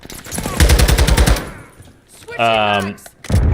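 Bursts of SCAR rifle fire in Call of Duty MWII multiplayer, a rapid string of loud close shots followed by a second short burst, with a voice talking over the gunfire.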